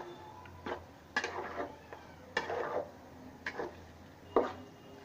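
Olive pickle being stirred in a pan, about five separate scraping, sizzling strokes at irregular intervals over a low steady hum, no talking.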